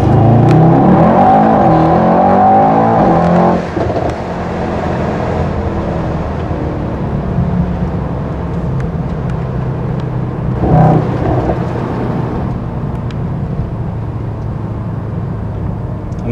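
A 2018 Mercedes AMG E63 S 4MATIC+ in race mode accelerates hard, its engine rising through a rapid gear change and then settling into a strong, sustained exhaust drone, loud and close from inside the car.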